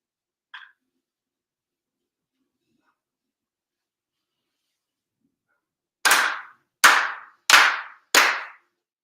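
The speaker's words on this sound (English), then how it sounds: "Chido Haide, 4 sincere claps." Four slow, evenly spaced ritual hand claps ring out loud and close in a quiet hall during a Tenchi Kane no Kami monthly ceremony, each clap sharp with a short reverberant tail, preceded by a brief faint click.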